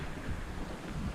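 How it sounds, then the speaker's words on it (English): Brief burst of strong wind buffeting the microphone at a Boundary Waters campsite, a dense, rough rumble with no voices. "Really windy."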